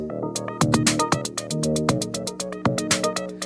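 Modular synthesizer electronic drum pattern with a booming kick, snappy snare and ticking hi-hats over a synthesized bass line, looping steadily at moderate tempo.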